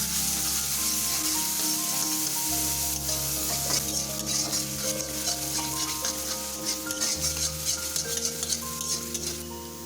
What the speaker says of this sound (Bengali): এটাকে এখন আমরা মিনিট 2 ধরে ভালোভাবে ভাজা করে নেব।